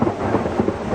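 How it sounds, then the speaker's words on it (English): Thunder from a nearby lightning strike during a storm rumbles as a loud, deep, continuous roll in a brief burst, with no voices. "Out of nowhere, a lightning strike just hit."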